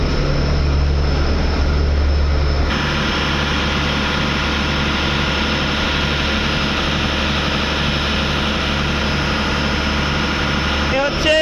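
A passenger river launch's engine room, where a heavy diesel engine runs with a loud, continuous low drone and steady mechanical hum, very close and unbroken for the whole stretch.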